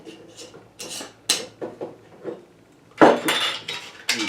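Glass moonshine jars being handled and topped off with pineapple moonshine, with a string of clinks, scrapes and knocks, close and irregular, louder bursts toward the end, no talk.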